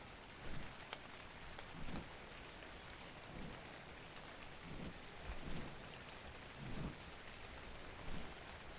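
Steady rain pours throughout in the game Ark Survival Evolved, with soft low rumbles of distant thunder swelling every second or so beneath the constant hiss.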